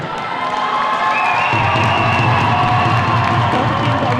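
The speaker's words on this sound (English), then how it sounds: "Obviously we've got a really big crowd, a lot of Warwick fans, but we've also got Coventry representing on the right-hand side." A large crowd of Warwick and Coventry fans at a varsity men's basketball game roars steadily in a big hall. The sustained cheering and whooping swells slightly partway through.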